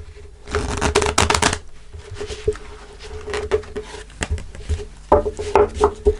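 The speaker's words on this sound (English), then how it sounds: "Let's pull an overarching tarot card. So I'm using the Druid tarot deck here." Druid tarot deck cards being shuffled by hand, a dense run of crisp riffling bursts up close, pausing and then resuming in quick flurries.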